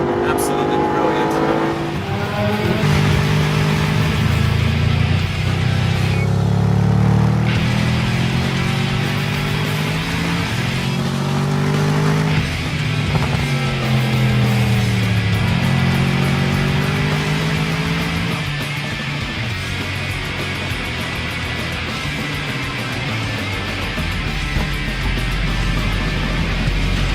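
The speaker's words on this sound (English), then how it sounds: "Look at that fantastic engine, listen to that." Mercedes SLS AMG GT safety car engine rumbling loudly and steadily for most of the stretch, with rising and falling revs and someone talking over it throughout.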